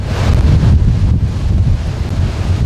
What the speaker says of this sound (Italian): Forti raffiche di vento, oltre i 70 km l'ora.